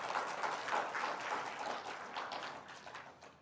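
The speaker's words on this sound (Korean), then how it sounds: "여기서 좀 박수 한번 부탁드리겠습니다." An audience applauds at a ceremony marking the 2,000th issue of a journalists' association newspaper, a faint, distant wash of clapping that swells briefly and then fades.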